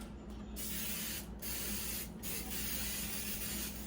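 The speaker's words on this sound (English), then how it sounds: "Spray your pan" Cooking spray hisses from an aerosol can onto a pie pan in a long, steady burst, broken by a few brief gaps, close and fairly loud.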